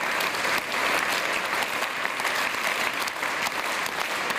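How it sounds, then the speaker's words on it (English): Audience clapping together during a science lecture on fusion energy and lasers, a dense, even burst of applause from many hands that holds steady and fairly loud throughout, with no speech over it. "I want you to all clap together."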